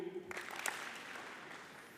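A university convocation audience gives a tepid round of applause: scattered claps under a thin wash of crowd noise, with one brief louder burst before fading, heard at a distance with no talking.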